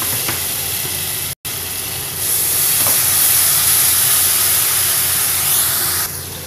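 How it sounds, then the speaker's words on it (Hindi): Golden fried onions in a pan for urad dal hiss and sizzle loudly as ground tomatoes go in, with a brief break and then a louder, steady sputtering sizzle close up. "तो हमने ये जो टोमेटो ग्राइंड किए थे अब इसको भी हम ऐड कर देंगे।"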